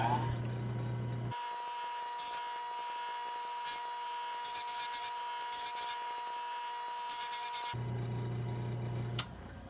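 A grinding wheel sharpens a plane iron with a steady high rasping hiss that swells and fades as the steel is passed across the wheel, close up and continuous for several seconds between quieter motor hum at either end.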